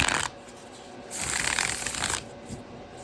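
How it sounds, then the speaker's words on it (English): Tarot cards from an indie deck being shuffled indoors, with two crisp riffling bursts, a short one at the start and a longer smooth one in the middle, over quiet room tone. "I'm going to shuffle it because a lot of these decks shuffle really well."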